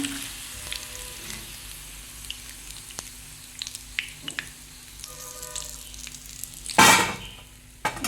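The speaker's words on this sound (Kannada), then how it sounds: "ಅದು ಮೀಡಿಯಮ್ ಉರಿಯಲ್ಲಿ ಇಟ್ಕೊಂಡು ಫ್ರೈ ಮಾಡ್ಕೊಳ್ಬೇಕು." Jackfruit kebabs fry in oil on a medium flame, making a soft steady sizzle with light scattered crackles, then a sudden loud hissing burst near the end.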